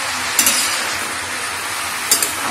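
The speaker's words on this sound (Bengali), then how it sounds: "কড়ার মধ্যে লাউ দিয়ে খুব ভালো করে মিশিয়ে নেব।" Bottle gourd and rice being stirred together in a wok, a steady frying sizzle throughout with two brief clinks of the spatula against the pan near the start and near the end.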